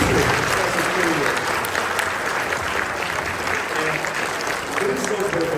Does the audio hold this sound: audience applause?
yes